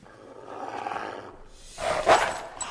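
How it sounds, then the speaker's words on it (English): A dog barks in a comedy film scene, a loud gruff burst near the end after a quieter stretch of murmuring background noise. "Whose dog is that?"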